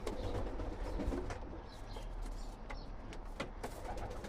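Domestic pigeons coo softly and repeatedly amid a low, rumbling background, with a few brief chirps scattered throughout.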